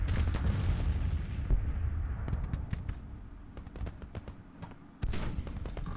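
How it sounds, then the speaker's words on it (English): Artillery fire in the video game Grand Tactician: The Civil War, during an 1863 campaign, with repeated deep booms and cracking reports scattered across the scene, some distant and muffled, one louder blast near the end. "There's an artillery battery behind my forces"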